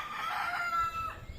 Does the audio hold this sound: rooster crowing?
yes